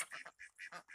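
Ducks quack in a few short, quick bursts that sound faint and close, out on a homestead with chickens and guineas nearby at breakfast time.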